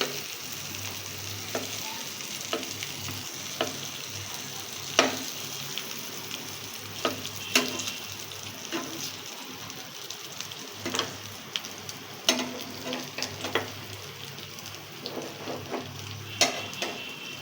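Slices of pointed gourd fry in hot oil with a steady, close sizzle, and light clicks of a utensil turning the pieces break through now and then.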